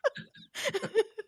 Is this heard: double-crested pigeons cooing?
no